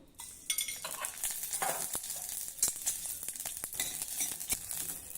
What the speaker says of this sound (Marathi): मंद आचेवर आता ही मिरची आपण छान खमंग भाजून घेऊ